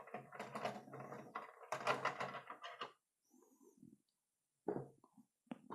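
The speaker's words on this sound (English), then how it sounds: "together with the base we will screw them, tighten them here up on these holes" Thumb screws are tightened by hand into the base of a Neewer Pro 9 light stand, making short, close bursts of scraping, rasping mechanical noise separated by quiet pauses.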